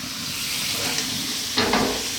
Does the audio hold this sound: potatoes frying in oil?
yes